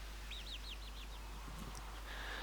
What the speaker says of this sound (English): he's got young chickens in it and one or two guinea fowl by looks of it in the background